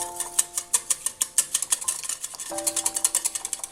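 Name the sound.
whisking egg and sugar with a spoon in a bowl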